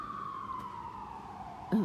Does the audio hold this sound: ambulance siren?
yes